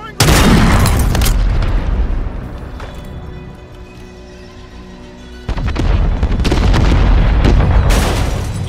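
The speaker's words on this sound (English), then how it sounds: "Friendly mortar strike on the way." Mortar strike explosions in Call of Duty Warzone on the Fortune's Keep map: heavy, close booms roar at the start, fade to a rumble, then a second loud burst of blasts hits midway and continues.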